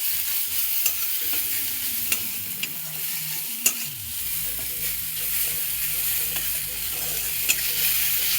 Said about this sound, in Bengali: তো এবার একটু তাড়াতাড়ি ভাজার জন্য নুন দেওয়া হলো, একটু নুন দিয়ে দিচ্ছে।